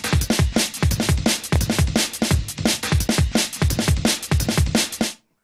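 Amen break drum loop pitched wrongly and layered over a rolling single-hit kick rhythm, dense rapid drum hits with booming low kicks in a driving pattern, loud and continuous, then cutting off abruptly.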